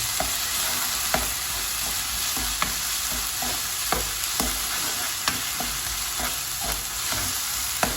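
Minced pork and pork pieces stir-fried in a hot pan until golden, a steady sizzle running throughout, punctuated by regular spatula clicks and scrapes against the pan.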